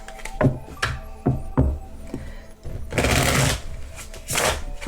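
Tarot cards are shuffled by hand in a series of crisp riffling bursts, some short and rhythmic and others longer, heard up close with no talking.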